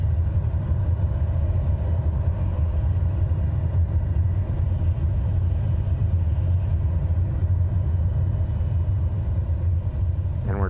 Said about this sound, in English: Reverse throttle.